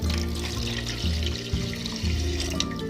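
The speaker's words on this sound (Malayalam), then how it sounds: "ഇതിലേക്ക് നമുക്ക് 2 കപ്പ് വെള്ളം ഒഴിച്ചു കൊടുക്കാം." Two cups of water poured into a pan of roasted rice flour for pathiri dough: a close, continuous rushing pour that swells and eases in short surges, with no talking.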